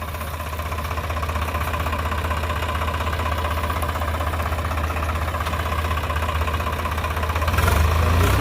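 A tractor's engine strains to pull a badly stuck, loaded trolley out of a sugarcane field, giving a steady, close, labouring drone that swells louder near the end, with no talk.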